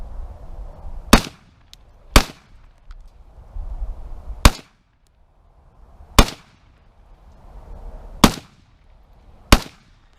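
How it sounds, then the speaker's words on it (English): Six sharp rifle shots fired at targets downrange outdoors, loud cracks spaced roughly one to two seconds apart with brief quiet gaps and faint background rustle between them. "I'm just gonna start shooting at other random stuff we got out there."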